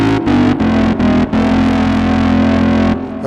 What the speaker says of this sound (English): Play a little bit with the drive here.